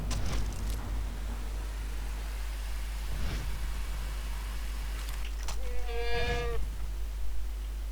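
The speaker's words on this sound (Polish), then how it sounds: "Słyszę? Tak, to są kozy." Goats bleating in the video game Far Cry 3: a few faint calls early on, then one clear, wavering bleat near the end, over a constant low hum and quiet ambient noise.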